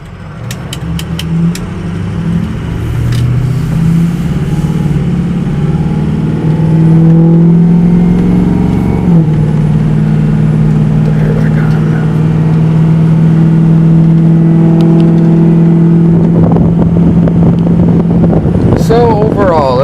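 Loud, deep diesel rumble from a lifted, straight-piped 6.0 Powerstroke pickup truck, droning steadily close by with a pitch shift midway and a rev near the end.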